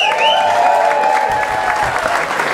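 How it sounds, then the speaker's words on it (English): Crowd applause at a fashion show, a short burst of clapping that thickens partway through, beneath a loud sustained tonal sound. "I want to hear a round of applause just for that."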